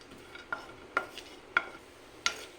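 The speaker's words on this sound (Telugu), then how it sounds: "కాజు, బాదం, కిస్మిస్ వేసుకొని ఫ్రై చేసుకోవాలి." Cashews, almonds and raisins fry in ghee in a pan, a soft sizzle with four sharp metallic spoon clinks against the pan, spaced about half a second apart, close and quiet, with no talk.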